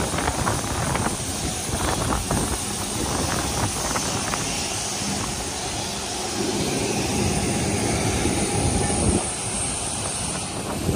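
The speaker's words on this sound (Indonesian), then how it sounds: "Pesawat." Airplane engines roar steadily at an airport while passengers head toward the plane, a dense, continuous broadband drone that stays loud throughout, with faint voices underneath.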